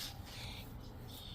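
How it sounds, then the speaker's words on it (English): Small songbirds near a backyard nest, heard as brief high chirps and squawks repeating over steady broadband outdoor noise, moderately faint and with no voices. "Can you hear my birds singing?"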